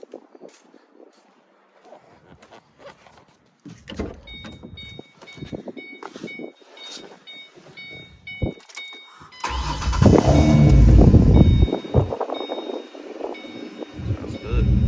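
A car fitted with a Pypes True Dual X-pipe exhaust, starting with faint rustling and clicks before the engine fires and settles into a deep, loud rumbling idle, with wind noise on the microphone.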